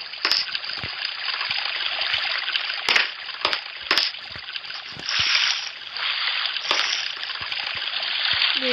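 Flowing water in the block-building game Mine Block Craft 3D rushes with a steady hiss, broken by scattered splashy clicks and surges, with no talking.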